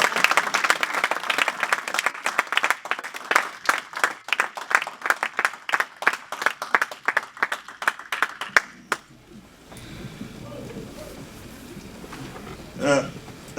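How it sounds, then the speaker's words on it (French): A crowd at a Congolese political gathering claps in loud rhythmic unison for about eight seconds as a speaker is welcomed. The clapping then stops abruptly, leaving a quieter room with a faint voice near the end. "sous vos acclamations"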